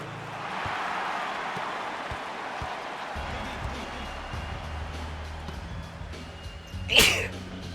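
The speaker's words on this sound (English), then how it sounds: "Sorry, I had to sneeze." A single sharp sneeze bursts out near the end, loud and close, over the steady backdrop of an NBA 07 basketball game on PS3 with crowd noise and court sounds.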